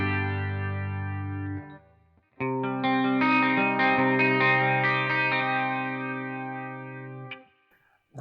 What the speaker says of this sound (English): see what it sounds like with a clean tone